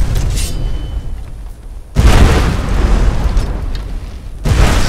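Heavy distant booms of artillery fire in the video game Skyrim Dawnguard, two loud rumbling blasts with long decaying roars, the second at about two seconds and another starting near the end, with no talk.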